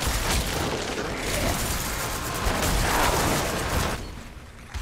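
Corpse explosions from a Necromancer build in Diablo 4 erupt as a dense, continuous wash of booming blasts and crackling game effects, loud and steady before tapering off near the end.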